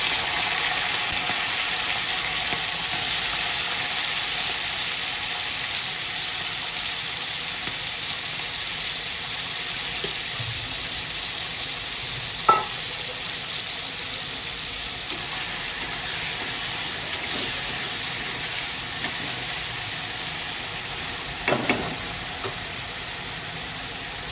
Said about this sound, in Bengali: চিংড়ি মাছগুলো ভাজা হয়ে গেছে, আর এগুলো হচ্ছে একদম দেশি চিংড়ি মাছ